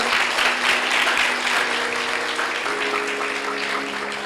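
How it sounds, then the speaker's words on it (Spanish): A church congregation bursts into applause, a dense and fairly loud wash of clapping that holds steady and then eases slightly, with a faint tonal hum underneath. "Fuertes aplausos para el Señor"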